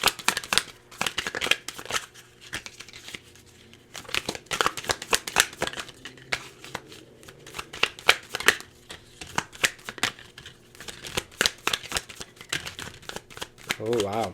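Tarot cards shuffled by hand, with repeated riffling bursts and soft snaps as cards slip out, close and intermittent, while a person talks throughout.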